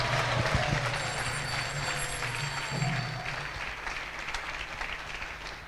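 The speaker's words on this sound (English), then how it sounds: "Please offer him a wonderful round of applause and welcome." An audience at Radha Radhanath Temple applauds to welcome a visiting swami, a moderately loud patter of many hands with a low background hum that slowly fades toward the end.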